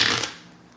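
Spirit Cosmo oracle card deck being shuffled, a brief close riffling burst that fades quickly into quiet room tone.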